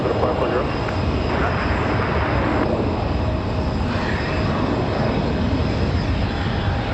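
An Aer Lingus airliner arriving at Raleigh-Durham airport gives a continuous broad engine roar, with a voice talking over it part of the time.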